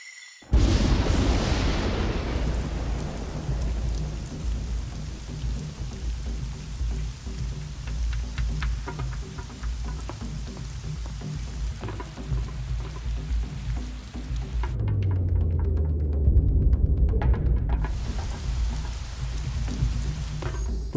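Steady rain in the Amazon rainforest, a dense, continuous hiss of falling water that swells louder toward the end, heard alone with no voices.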